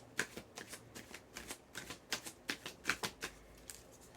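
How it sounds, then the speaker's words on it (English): Tarot cards being shuffled by hand, a steady patter of soft riffling flicks in quick repeated bursts, close and fairly quiet. "We're gonna pull another 8 cards to clarify these."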